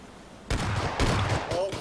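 Bursts of gunfire in the video game PUBG, a short rapid volley followed by a few more shots, fairly faint and heard alongside a voice talking.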